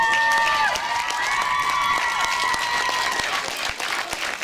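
A crowd at the UKM Sørreisa 2012 youth arts festival applauds the winner with steady, dense clapping mixed with cheers and whoops, loud and continuous throughout.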